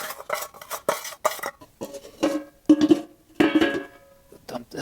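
Metal scraping and clattering as a bowl from a homemade no-weld used-oil burner is cleaned out, with sharp intermittent scrapes and knocks close by, separated by short quiet gaps.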